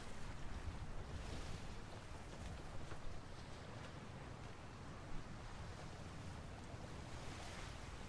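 A sailing ship at sea in the video game Atlas with the wind against it, steady broadband rush of wind and surging waves at low, even level, with occasional small bumps and no talking.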